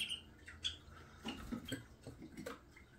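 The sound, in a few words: canaries chirping in home aviary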